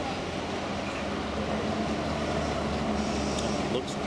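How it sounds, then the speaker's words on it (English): A Basel city tram, line 15, rolls past in steady street traffic, a continuous broadband rumble holding level for the whole stretch with a few faint high squeals near the end. "Here is the tram, number 15."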